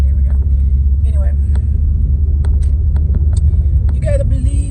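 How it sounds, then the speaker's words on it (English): A car rushes past, a loud, steady low rumble of engine and road noise that stays close and dominant throughout, with faint higher clicks and squeaks scattered over it. "I gotta keep it watching because this black car is flying"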